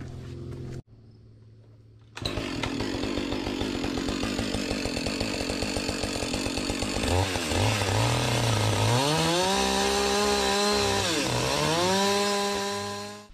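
Chainsaw trimming the base of a cedar deer feeder: a short idle, a brief pause, then a loud sustained run with rising and falling revs as the chain bites into the wood.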